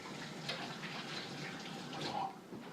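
Running tap water pours over hands being washed in a home kitchen, a soft steady splashing stream with slight fluctuations, faint and without talk.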